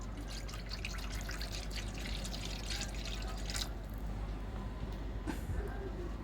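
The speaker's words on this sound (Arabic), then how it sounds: "هنزل عليهم بشويه لبن" Milk is poured over layered bread in a baking tray, giving a soft continuous splashing and trickling under steady background noise, with a faint voice nearby.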